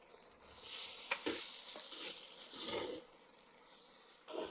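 Turkey berries (sundakkai) with dried red chili and garlic being sautéed in a clay pot, a steady moderate sizzle with occasional scraping stir clicks, no talking.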